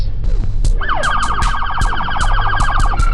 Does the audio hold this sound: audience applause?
no